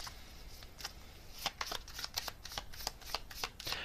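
Oracle cards being shuffled by hand in a quick run of crisp riffling snaps and flutters, close and fairly quiet, with no voice over them.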